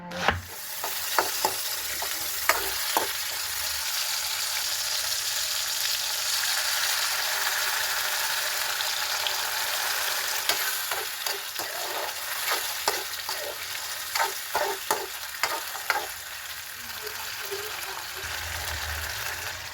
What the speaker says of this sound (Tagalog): magluluto tayo ngayon ng ginisang repolyo with sardines